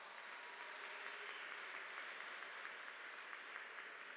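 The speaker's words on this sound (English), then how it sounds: "Let's give them a round of applause." Audience applauding at a university spring commencement ceremony, a steady wash of clapping held faint and distant for the whole stretch.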